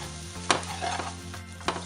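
Scrambled tofu with tamari is stirred in a non-stick pan over a gentle sizzle, with two sharp utensil scrapes against the pan, close and alone with no voices.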